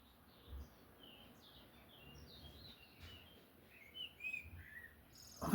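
Birds near a salmon river chirp and call in short, scattered bursts, faint to moderate, over quiet ambient noise, with a louder sound cutting in at the very end.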